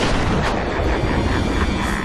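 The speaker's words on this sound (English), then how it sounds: "the Joker holds a gun to your head and basically pulls the trigger" A gunshot in a Batman video game as the Joker fires point-blank at the player, heard as a dense, loud, sustained roar of blast noise with no distinct separate bursts.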